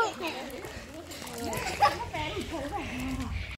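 Water splashing in a small swimming pool at Mahabaleshwar, with light sloshing and spatters under the chatter of children and someone talking close by.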